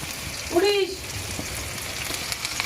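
Chopped onion, chilli, ginger and garlic fry in a pan for pasta, a steady soft sizzle close by, with a brief voiced sound rising over it near the start.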